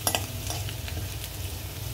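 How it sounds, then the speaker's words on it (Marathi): Ginger, garlic and green chili sauté in hot oil in a pan, with a soft continuous sizzle and a few light stirring scrapes close by. "थोडं तो कच्चा असतो तर त्याचा वास जाईपर्यंत थोडं परतून घेऊया।"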